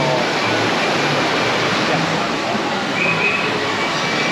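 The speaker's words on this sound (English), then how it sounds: "Nice view of waterfall." Rushing water from a waterfall along the Disneyland Railroad route, a broad continuous roar at steady loudness throughout, with a faint distant tone briefly rising through it.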